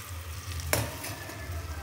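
Caramel for sweet popcorn boils in a pan with a soft, steady bubbling sizzle and one sharp clink near the middle, close and fairly quiet, with no talk.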